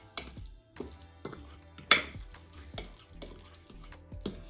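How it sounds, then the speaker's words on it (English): A spoon stirs sweet potato jam in a pot, giving a series of scraping, clinking strokes at a steady rhythm, close and fairly quiet, with no one talking. "Go ahead, stir it well."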